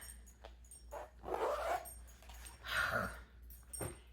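A puppy nearby makes a few soft whimpers and snuffling noises, brief bursts separated by quiet pauses.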